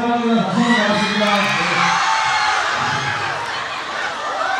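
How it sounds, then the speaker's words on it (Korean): Audience at a graduation concert at a high school in Ansan, Gyeonggi-do, bursting into loud applause, cheers and whoops that hold steady for several seconds, with a voice over the crowd early on. "박수 나왔습니다"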